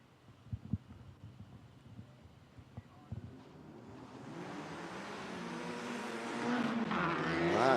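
Touring race cars at a Malaysia Championship Series race rev their engines nearby. Sparse thumps and low idle give way to a swelling, rising engine roar that grows loud and fills the last few seconds.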